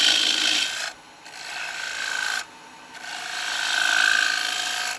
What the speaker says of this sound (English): Slightly heavy cut for this size chisel.